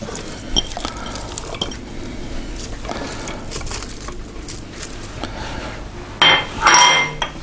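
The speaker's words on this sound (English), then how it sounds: "I then add the onions." Onions are added to a pot of oxtail with a busy clatter of utensils against the pot and soft stirring, ending in a louder scraping burst near the end.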